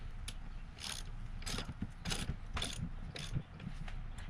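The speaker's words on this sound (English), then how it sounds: "I've got a 21mm socket that we're going to use to crank this down with" A ratchet cranks a 21mm socket to press a control arm bushing into place, giving a steady series of sharp, close mechanical clicks about every half second over a low background rumble.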